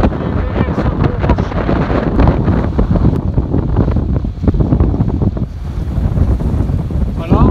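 Strong force 6 wind of 25 knots buffets a sailboat under mainsail, a loud continuous roaring rush with gusty wind noise on the microphone and waves washing past.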